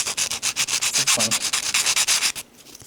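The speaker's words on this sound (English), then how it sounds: "when I'm sanding with this, you can do it with the fine side" A sanding sponge rubbed by hand over a surface in quick, even back-and-forth strokes. The rasping is close and steady, with roughly a dozen rhythmic passes, then it stops.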